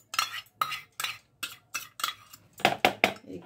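Eggless orange cake batter with yogurt being whisked in a bowl: a steady run of sharp utensil clinks against the bowl, about ten strokes in quick rhythm, close and clear with no talking.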